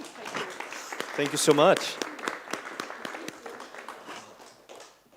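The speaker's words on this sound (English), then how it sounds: "Then warm applause for Isabella." An audience at an evening talk event gives moderate applause for speaker Isabella, scattered handclaps that swell briefly and thin out over several seconds, with a speaking voice heard over them.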